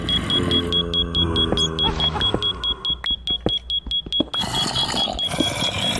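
A video game fire alarm beeps in a steady, rapid series of high, piercing electronic tones, loud and repeating, over busy background noise.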